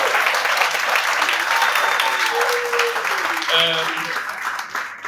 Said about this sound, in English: Please, another big round of applause, ladies and gentlemen.